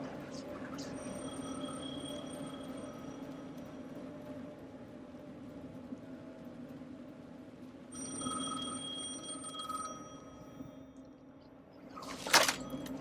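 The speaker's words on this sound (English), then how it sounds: "The phone again." A telephone rings in the video game Alan Wake 2, with two separate bursts of ringing over a low, droning ambience, fairly faint, and a brief sharper clatter near the end.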